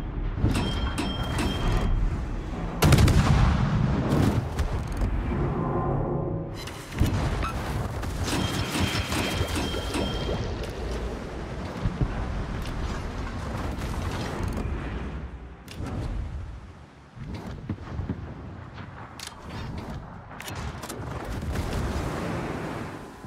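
Naval guns fire during a World of Warships clan battle, with heavy broadband booms, the sharpest near the start. Rumbling engine and mechanical game ambience continues between the shots.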